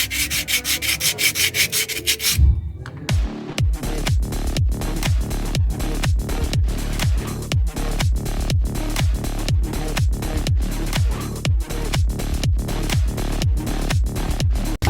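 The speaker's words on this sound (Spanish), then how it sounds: "ya por último vamos a tallar con la lija, que en mi caso es 220" Steady back-and-forth scraping of 220-grit sandpaper on car battery parts, a regular rhythm of strokes close to the microphone, preceded by a brief rougher rubbing burst.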